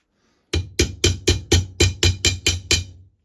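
A hammer tapping a pin back into a restored rusty old clamp: ten sharp metallic taps in an even, brisk rhythm, close and loud against silence.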